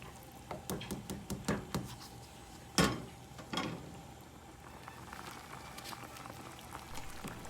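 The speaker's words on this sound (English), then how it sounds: "I did put canola oil and salt in my water when I boil it" A pot of water with canola oil and salt boils for pasta, giving faint crackling bubbles and scattered ticks, with a few louder pops standing out against a quiet kitchen background.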